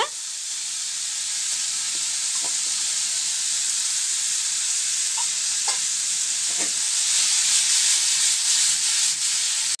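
Paneer frying in a pan, a steady bright sizzle with occasional stirring scrapes, close and continuous, swelling slightly louder toward the end.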